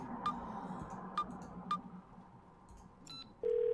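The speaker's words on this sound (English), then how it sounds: "Let's pick up the phone." A phone in a video game dials 911: three evenly spaced keypad beeps over a soft ambient hum, then a steady ringback tone starts near the end.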